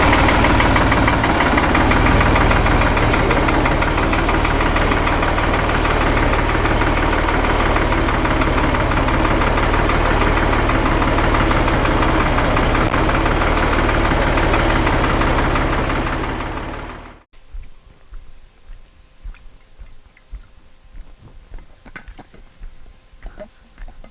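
A tractor engine idles loudly and close with a steady knocking rumble for about seventeen seconds, then cuts off abruptly, leaving quiet background with faint scattered clicks.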